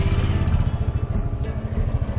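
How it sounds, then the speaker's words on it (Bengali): A motorbike rides across a mountain helipad at Mangan in North Sikkim, its engine a close, loud, steady throb with a rapid pulsing beat and a slight drop in tone partway through. "হেলিপ্যাডের মনে সুখে বাইক চালাচ্ছে"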